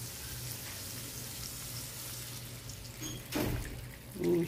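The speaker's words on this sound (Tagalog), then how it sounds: "Lagyan natin yan ng tubig." Water is poured into a pot of pork for a sigarilyas dish; a soft sizzling bed gives way to a short splash and a second gurgling pour near the end.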